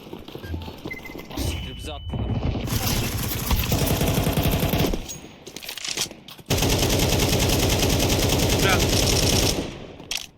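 Rapid automatic gunfire bursts and single shots from Counter-Strike 2 on the Vertigo map, loud and dense, with players talking over the shooting throughout.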